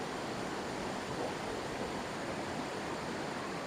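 A forest waterfall at Dahanagiri, a steady broadband rush of falling water with no breaks or voices, fairly faint and distant.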